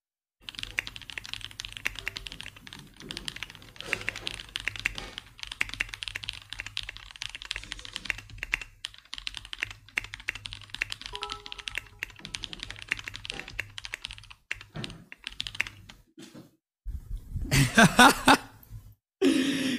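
Computer keyboard typing fills most of the stretch as steady, fast clattering keystrokes at close range, with a few quiet pauses, then a louder burst of key taps near the end.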